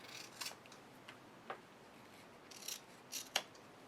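Scissors trim the ends of a paper Halloween card, giving a few faint, close snips and soft paper rustles scattered irregularly through a quiet room.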